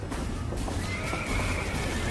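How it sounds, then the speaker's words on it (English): Horses whinny loudly in a barn during a fire, a drawn-out high neigh over a dense rumbling background with hoof clatter mixed in. "We need to get the horses out of the barn!"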